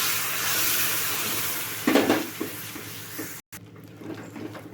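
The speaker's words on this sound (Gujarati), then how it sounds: "થોડું થોડું પાણી એડ કરતા જઈને મિક્સ કરીશું" Water poured onto roasted wheat flour for a sweet sheera bursts into a loud hiss and sizzle, then settles into softer bubbling and stirring scrapes after a brief cut, close by with no talk.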